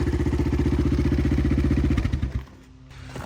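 A 1985 Honda XR350R motorcycle engine idles close by with a rapid, even thumping pulse that drops and softens near the end, with no voices.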